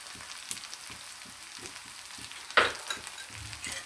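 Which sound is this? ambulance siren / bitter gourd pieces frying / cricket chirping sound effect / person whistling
bitter gourd pieces frying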